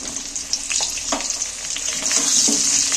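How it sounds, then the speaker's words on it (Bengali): Steady, loud hiss of ridge gourd frying in hot oil, with a few soft knocks and stirring clatters scattered through it. "এবার ঝিঙেগুলো তুলে দিচ্ছি তেলের মধ্যে"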